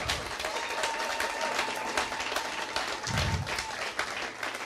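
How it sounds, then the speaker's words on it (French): A church congregation at a Pentecost seminary gathering applauds steadily for several seconds, a dense wash of clapping with a few scattered voices mixed in. "Acclame pour le Saint-Esprit et la parole."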